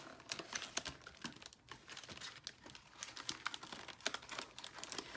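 Scored paper card being folded along its score lines by hand, with a steady run of crisp crinkles, creases and sharp paper snaps, close and fairly quiet.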